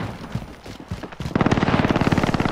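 Rapid gunfire from a first-person shooter video game, starting with a few scattered shots and then a sustained automatic burst of evenly spaced loud reports.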